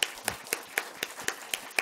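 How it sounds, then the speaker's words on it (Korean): Congregation clapping in encouragement during a Sunday church service, a slow, steady run of about eight distinct claps, fairly close and alone. "우리 격려의 박수 좀 드렸으면 좋겠네요"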